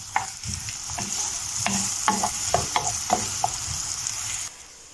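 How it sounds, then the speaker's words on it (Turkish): Onions sauté in a frying pan with a loud, steady sizzle, broken by repeated scraping stirs of a utensil against the pan, then the sound drops away near the end. "Bir iki dakika soğanları soteliyorum."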